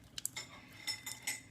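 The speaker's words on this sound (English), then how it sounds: "Stir it all in nice with" Spoon scraping and clinking against a prep bowl while butter is stirred into a mix, a few sharp clinks and softer scrapes, fairly close and quiet, no talking.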